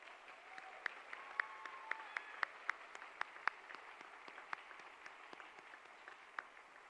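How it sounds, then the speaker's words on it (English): Audience applause at an awards night, a steady round of clapping in a hall with sharp individual claps standing out, moderately distant and sustained throughout with no talking. "Round of applause,"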